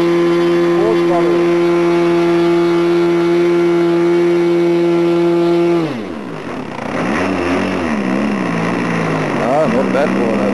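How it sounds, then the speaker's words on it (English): OS 46 LA model glow engine tuned very rich, running at full throttle with a loud, steady high-pitched whine that drops sharply partway through, then rises and wavers at lower revs. "So I tuned the engine very, very rich. And now this is the full throttle."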